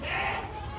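A Sirohi goat that has just given birth to her first kid on a Rajasthan goat farm in Ajmer lets out a short, close bleat over noisy farmyard background.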